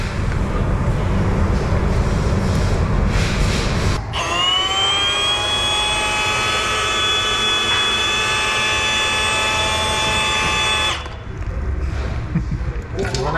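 A heat gun warming a Ferrari 360 Challenge Stradale Spider headlight lens to seal it, giving a steady close whine with a high tonal hiss that starts abruptly, holds for about seven seconds and cuts off, over background noise.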